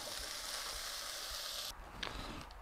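Smoked pork Kassler searing in a Dutch oven gives off a steady, soft sizzle that cuts out abruptly, followed by a couple of faint clinks.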